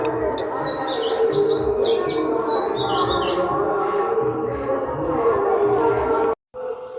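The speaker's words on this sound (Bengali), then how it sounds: "পাখি কিছু ডাকছে পাখিগুলো" Several birds chirp and whistle in quick repeated phrases over a low outdoor hum, busiest early on, ending with a brief cut.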